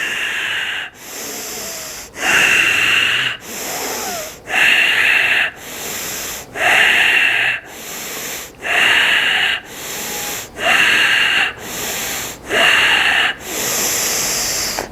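Deep, forceful breathing in and out during a tantric breathing exercise, close to the microphone, with regular alternating breathy inhales and exhales repeating steadily about every second, with no speech.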